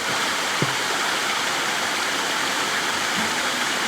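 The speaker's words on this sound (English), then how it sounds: "That's a man-made waterfall." A man-made waterfall pours over rocks into a small stream in the mountains, giving a steady, close, even rush of falling water with no speech.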